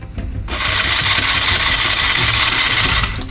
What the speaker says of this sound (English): Press the starter button.